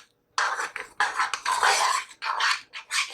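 Spoon stirring moong dal cooking in milk in a pan for Rajasthani moong dal halwa, a quick series of close scraping and clinking strokes against the metal.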